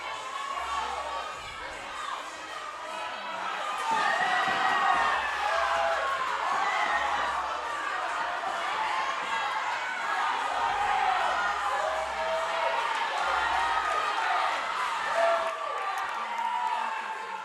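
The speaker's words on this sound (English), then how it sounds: "You hear the crowd cheering" Spectators cheer continuously at a Burn Boot Camp fitness competition, a dense crowd roar with whoops that swells partway through, while voices talk over it.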